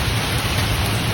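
Steady, dense rain falls close by, a continuous hiss of drops pattering on a surface with a low rumble underneath, unbroken for the whole moment.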